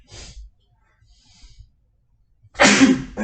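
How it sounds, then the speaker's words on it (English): Two sneezes: a small, soft one at the start and a loud, forceful one near the end, separated by quiet breathing. "I've been sneezing like crazy."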